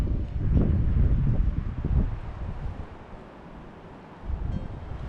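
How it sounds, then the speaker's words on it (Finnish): Strong outdoor wind gusts buffet the microphone in low, roaring bursts that ease off midway and then surge again, with faint rustling and no voices. "Tää tuuli on kyllä paha täällä."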